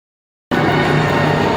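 A motorbike is ridden on a road trip from Ujjain toward Rajasthan, heard as a steady, loud engine and wind rumble that starts abruptly after half a second of silence.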